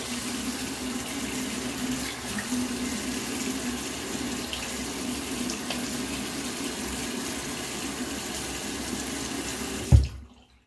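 Tap water runs steadily into a sink while wetting the face before a shave, a continuous close splashing stream that stops abruptly near the end with a brief knock.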